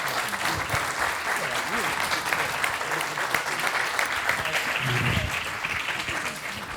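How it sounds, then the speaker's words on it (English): An audience at a foreign policy panel event applauds steadily and evenly throughout. The clapping is dense and moderately loud, with a faint murmur underneath. "Let's give them all a round of applause"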